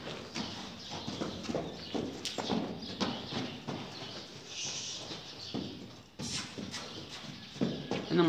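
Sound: horse trotting, clip-clop of hooves

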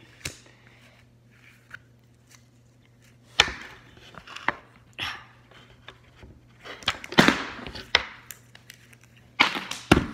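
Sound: chopping food on a board

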